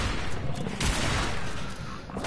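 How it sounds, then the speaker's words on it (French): Heavy .50 calibre gunfire from Fallout 4 in survival mode pounds out as a dense, loud burst of overlapping shots that tapers slightly near the end. "Boum, calibre 50 dans ta gueule."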